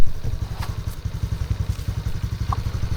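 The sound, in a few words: motorcycle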